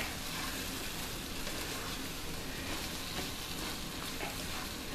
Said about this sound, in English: Now we're going to go ahead and stir that up just a little bit because we want to get the eggs cooking evenly through there.